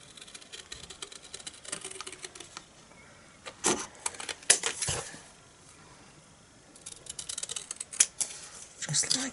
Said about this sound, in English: And then I'm just going to cut this out using my scissors.